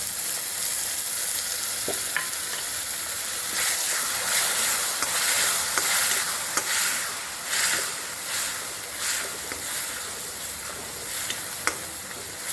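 Biryani masala with yogurt sautéing in hot oil for egg biryani, a steady close sizzle with scattered crackles and a few sharp pops, rising and falling gently as it is stirred.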